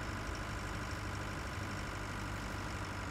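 A combine harvester's engine drones in the Pure Farming 2018 farming game, a steady, dense low rumble with no breaks or speech.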